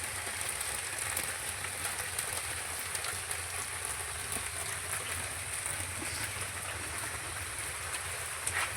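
Steady rain falls throughout, a dense even hiss of drops hitting surfaces with no voices.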